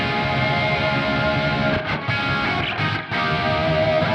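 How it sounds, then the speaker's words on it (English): Distorted electric guitar run through a large room or hall style reverb, held chords washing into a spacious tail, loud and steady with a couple of short dips where notes change. "It's kind of like a large room or hall style reverb."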